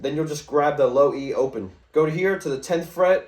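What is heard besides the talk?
None of the usual background noises is heard.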